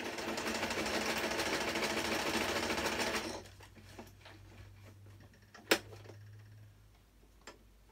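A sewing machine whirs and stitches rapidly for about three seconds, then stops, followed by a few sharp clicks and a low hum.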